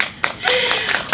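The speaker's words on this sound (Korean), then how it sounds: "여러분 박수 한번 부탁드릴게요" Audience clapping after a magic performance, a short burst of several distinct, close, sharp claps in an uneven rhythm lasting about a second.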